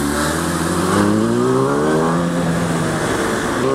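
A motorcycle engine revs loudly and continuously nearby, its pitch rising and falling as the throttle is blipped, with no talk over it.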